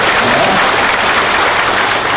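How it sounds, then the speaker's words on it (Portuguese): Loud, dense applause from an audience at a motivational talk fills the whole stretch, a thick continuous roar of many hands clapping close by with no gaps. "Então peço palmas, por favor, mais uma vez, a essa mulher que trabalha conosco nessa cidade."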